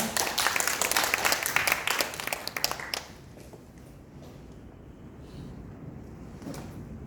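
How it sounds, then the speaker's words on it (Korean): Church congregation applauding during a worship service, dense clapping for about three seconds that then stops abruptly, leaving quiet room and wind-like background noise. "여러분 박수 부탁드립니다."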